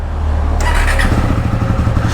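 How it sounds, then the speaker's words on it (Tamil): A KTM Duke 390 motorcycle engine cranks and catches, then settles into a loud, close, rapid pulsing idle with no talking. "வண்டியை ஸ்டார்ட் பண்ணி விட்டுருங்க"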